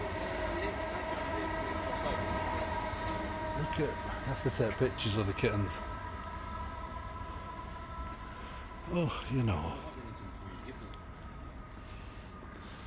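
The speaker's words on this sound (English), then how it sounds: "Another train." A train rumbles steadily past in central Istanbul with a continuous low mechanical drone and squealing wheels, while people talk nearby over the noise.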